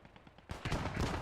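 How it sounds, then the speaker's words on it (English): Auto cannon fire from a vehicle in the World War II game Post Scriptum, heard in a competitive match as a quiet rattle that gives way to a sudden loud, dense burst of close, rapid shots. "clearing out the trees with that auto cannon"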